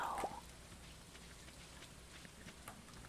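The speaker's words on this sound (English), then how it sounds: "It's raining today" Soft, steady rainfall from the Stardew Valley farming game patters quietly as a low continuous hiss with faint scattered drops, heard alone at low volume.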